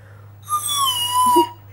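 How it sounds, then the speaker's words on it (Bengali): A plastic straw blown through a glass of water gives one steady, clear whistle lasting about a second, close and fairly loud, with a faint low hum beneath. "জাস্ট একটা স্ট্র আর 1 গ্লাস পানি। এখন দেখো ফু দিলে কিরকম সাউন্ড হয়"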